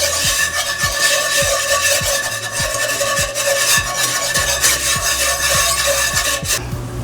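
Ginger stirred in a hot pan, a steady dry scraping and rubbing of a utensil against the pan with a soft sizzle underneath, repeated strokes at a brisk rhythm, close and fairly loud.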